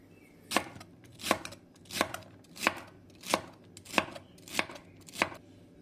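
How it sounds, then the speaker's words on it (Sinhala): Celery being chopped into small rounds with a knife: eight evenly spaced, crisp chops against a board at a steady unhurried rhythm, close and alone. "මේ විදිහට නූල් ඇරලා තමයි මේක පුංචි පුංචි රවුම් වලට කපාගන්නේ"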